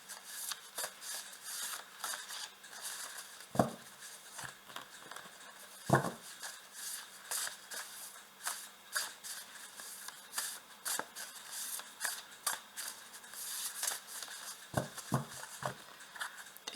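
Oracle cards being shuffled and drawn, soft papery riffles and flicks in quick irregular bursts with a few sharper taps, close and fairly quiet, no talking.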